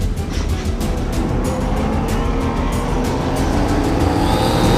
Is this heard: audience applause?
no